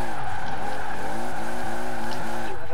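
Toyota Supra in Forza Horizon 4 drifting, its engine droning steadily under a continuous high tyre squeal, loud and close throughout.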